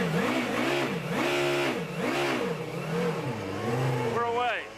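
A car engine revs up and falls back in repeated rising and falling surges as the driver hunts for first and then second gear, loud and close, with voices talking over it.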